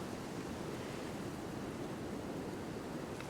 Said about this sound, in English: the sound of the flowing water